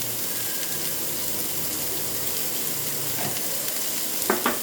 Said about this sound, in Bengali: এটা ভালোভাবে আমি ভেজে নেব।